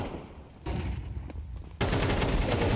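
Rapid gunfire spams in a Counter-Strike 2 match, with quick bursts of shots up close that get denser and louder toward the end.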